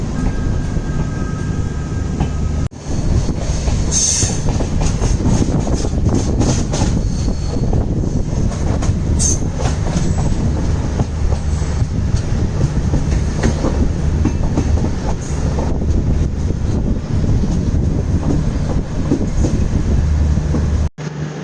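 Madgaon–LTT double decker express train running on the Konkan route near Kankavli, a loud steady rumble and rolling wheel noise throughout with faint clatter, heard from on board without talk.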